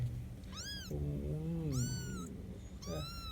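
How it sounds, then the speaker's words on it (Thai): A mother cat meows in three separate calls, each a drawn-out, rising-then-falling cry, close and fairly loud inside a house, with a lower rumbling murmur between the first two calls and no talk. "แม่แมวคิดผิดแล้วออกมาทางนอกเลย ดู จะวนทั่วบ้านแล้วเนี่ย"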